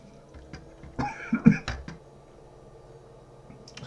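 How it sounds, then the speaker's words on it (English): A person coughs a few times in quick succession close to the mic at a workbench during a WPL 1/16 scale crawler build, between quieter clicks and handling noises. "Sorry, bit of a cough."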